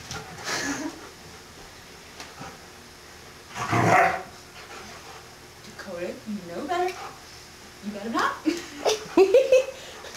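A puppy gives a few short, high yips and barks amid excited human voices and laughter, close by and fairly loud, the barks bunched toward the end.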